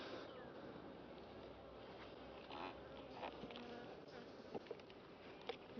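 Honeybees buzz around an open hive in early nectar season, a dense, continuous close drone with faint rustling and a few soft taps mixed in.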